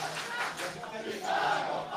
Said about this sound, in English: Crowd is really into it now.